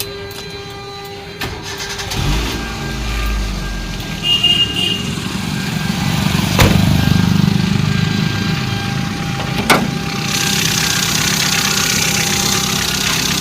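A 2009 Santro car running on LPG and petrol cranks and starts after about two seconds, then settles into a steady, rumbling idle heard up close for the rest of the clip, with occasional clicks.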